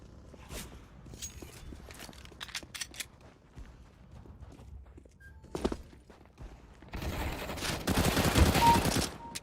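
Gunfire in a video game heard during a live stream, scattered sharp shots early on and a dense burst of rapid firing toward the end, fairly loud and close with no talking.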